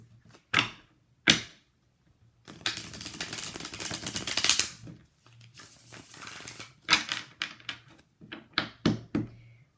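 Tarot cards are riffled and shuffled in quick bursts, with sharp slaps and a longer rustling run in the middle, close and otherwise quiet.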